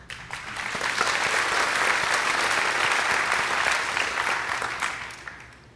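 An audience gives a speaker a warm round of applause at a community gathering, dense and sustained for several seconds with no voices over it, swelling quickly and tapering off at the end.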